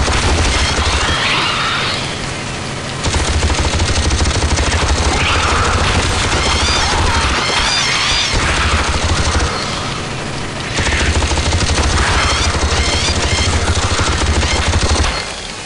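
Gunfire in the video game Aliens versus Predator 2: Primal Hunt, with loud, dense automatic bursts and booming shots in two long volleys broken by a short lull, with no talk over them.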